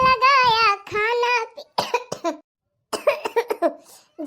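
A woman coughs several times in quick harsh bursts, close and loud, with pauses between, alongside some vocal sounds.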